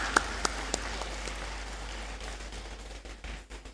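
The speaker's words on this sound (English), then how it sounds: "A clap for Prof. Sanaja." An audience applauds a professor at a university academic awards ceremony, a steady patter of clapping heard from a distance, with a few sharper claps standing out at the start.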